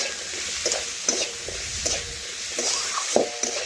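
Spice paste of ginger, cumin, green chilli and garlic fries gently in a pan, a soft sizzle under scattered stirring scrapes and small clicks, quiet and close.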